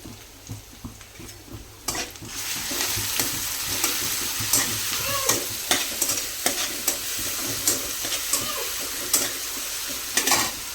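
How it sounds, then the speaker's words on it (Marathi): Crushed chili-garlic masala goes into a frying pan over a lowered gas flame for a dill bhaji. A soft sizzle rises and holds steady, broken by repeated clicks and scrapes of stirring. "आता जो हा मसाला आहे ना मिरची लसूण कुटलेला हा टाकूया आपण"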